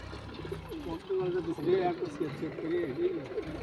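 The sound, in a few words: pigeons cooing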